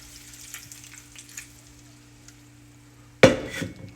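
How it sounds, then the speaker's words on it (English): Water poured into a hot pan of fajita peppers and onions with seasoning gives a sudden loud sizzling burst near the end, after a quiet stretch with a steady low hum. "And I'm going to add some water."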